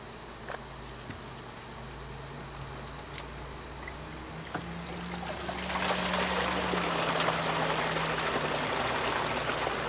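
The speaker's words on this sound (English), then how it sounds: "we're going to open up the gray tank valve and begin filling this tank" Gray water draining from an RV gray tank through a flexible hose into a tote tank, a steady trickle and pour with a low hum beneath, getting fuller and louder partway through.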